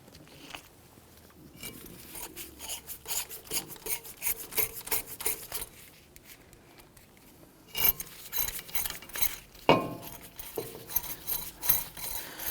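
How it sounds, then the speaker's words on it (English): A ratchet tightens the brake rotor anchoring screws on a 2017-2020 Hyundai Elantra, producing steady rapid rasping clicks in long runs, close and moderately loud, with a brief pause before a second busier stretch. "go ahead and install the rotor and install those anchoring screws"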